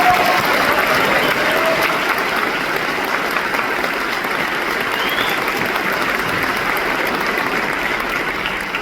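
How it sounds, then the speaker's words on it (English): A large graduation audience applauds the teachers, a dense, steady wash of many clapping hands that stays loud and continuous throughout, with no voices standing out. "And if we could give them a round of applause,"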